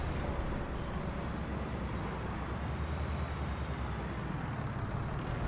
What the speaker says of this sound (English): This little Fendt tractor is kind of nice.